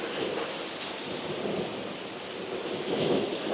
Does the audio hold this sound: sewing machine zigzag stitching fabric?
no